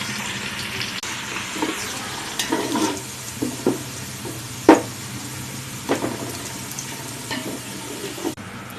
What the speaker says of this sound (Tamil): இது நல்லா கோல்டன் ப்ரௌன் வர வரைக்கும் நல்லா ஃப்ரை பண்ணிகிட்டே இருக்கணும்